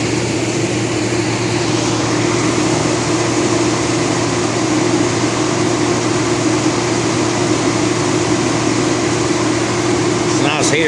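A 400,000 BTU cold-start space heater runs with a loud, constant roaring blower noise, unbroken from start to finish, with a faint click near the end.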